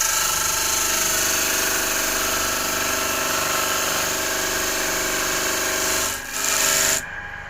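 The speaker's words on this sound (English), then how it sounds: "I have this linisher here, and this is the disc part of it, and I use this for sanding" A linisher's disc sander whirs steadily with a gritty rubbing hiss as wood is pressed against it, then briefly dips and cuts off near the end.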